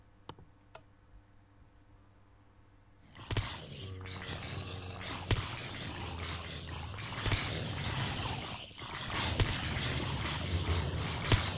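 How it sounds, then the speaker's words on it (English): Grinder and soul shard machine switching on in a modded Minecraft base, a dense clattering mechanical din that starts abruptly after a few seconds of faint ticking and keeps churning loudly throughout. "turn the grinder and the soul shard on"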